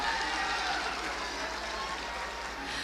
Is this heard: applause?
yes